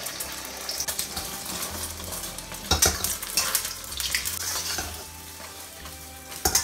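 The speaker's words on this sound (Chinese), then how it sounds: "锅里油热呢，我们打入3个鸡蛋" Three eggs cracked into hot oil in a wok sizzle loudly and steadily, with stirring scrapes and brief bursts of spattering throughout.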